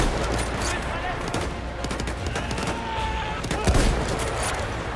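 Rapid rifle gunfire crackles through a war video game battle, dense overlapping shots and bursts filling the whole stretch at close, loud range with no pauses.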